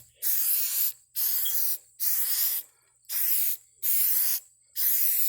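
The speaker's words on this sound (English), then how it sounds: "Just go like a slow spray over it, maybe twice." Six short bursts from a spray can applying tack coat over a cylinder head being resurfaced, each hiss lasting under a second with brief silent gaps between, close and even.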